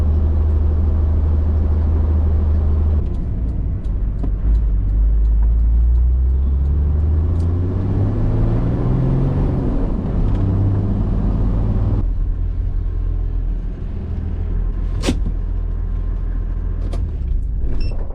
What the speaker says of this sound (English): Taking it for a drive around after putting the wastegate back in.